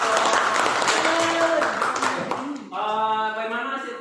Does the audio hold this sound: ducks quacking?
no